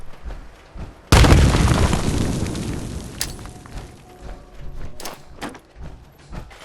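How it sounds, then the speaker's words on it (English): A grenade blows up in Fallout 4 with a loud, sudden boom, and a rumbling tail fades over several seconds while scattered gunfire-like pops and thuds continue afterward. "Grenade!"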